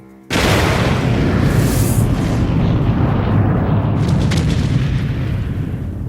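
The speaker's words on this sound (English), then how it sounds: "a terrible explosion tears the ship in half" The battleship USS Maine blows up at anchor in Havana Harbor, a sudden massive blast that becomes a long, loud, roaring rumble lasting several seconds.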